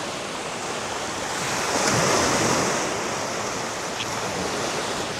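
Indian Ocean waves wash onto a beach in Africa with a broad, continuous roar. One swell builds and breaks loudly near the middle, and there is no talk over it.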